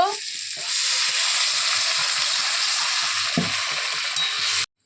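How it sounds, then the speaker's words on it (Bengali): Water hits a hot pan of frying onion stalks, bursting into a loud, steady sizzle that runs continuously and then cuts off abruptly, with a voice briefly audible near the start. "ভাজা ভাজা হয়ে গেছে, এখন জল দিয়ে দেব।"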